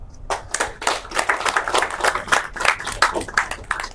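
An audience at a medical equipment donation ceremony claps steadily and quite loudly for several seconds, a dense, even patter of many hands.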